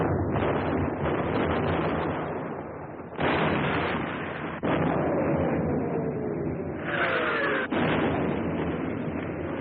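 Artillery fire in a Second World War battle at San Pietro, Italy, heavy booming blasts and rumbling roars over a constant windy wash, with a few sharp thuds cutting in.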